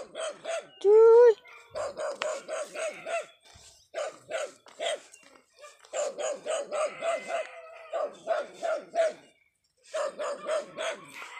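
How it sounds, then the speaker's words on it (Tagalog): A dog barks in rapid, loud bursts close by on a rough rural road, with a brief high whine near the start and a few short pauses between volleys; faint human voices may sit underneath. "Yan, tumatahol na yan guys."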